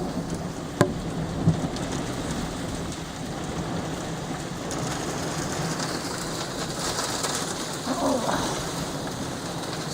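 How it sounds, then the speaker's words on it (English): A heavy hailstorm pelts surfaces in a steady, dense patter with a couple of sharper knocks, continuous and close, no voices over it. "Wow, what a storm, eh?"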